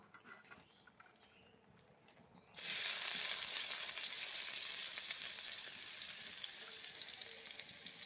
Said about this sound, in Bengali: এখন কড়াইতে তেল দিয়ে দিচ্ছি, তারপর পেঁয়াজ রসুন কুচি দিয়ে দেব